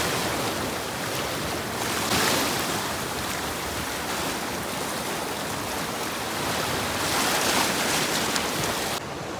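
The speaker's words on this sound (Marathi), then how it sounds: "पाहू शकता पाण्यात उडी टाकले राहुल दादाने, आणि लाटा पाहू शकता कसा पडली" Sea waves roll and break nearby after a man jumps into the water during net fishing, a continuous loud wash of surf with surges rising and falling throughout.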